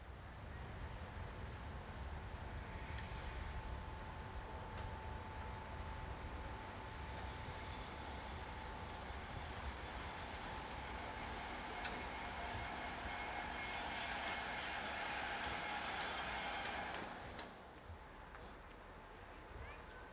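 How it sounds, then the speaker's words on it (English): Steam locomotive number 202 rolls into Pirmasens Nord station with a steady, loud rumble of wheels and a thin squeal, swelling slightly before easing off near the end. "we caught up with number 202 again as it enters the station here at Pirmasens Nord"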